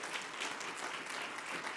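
Church congregation applauding, a dense, steady patter of many hands clapping continuously at moderate volume without voices.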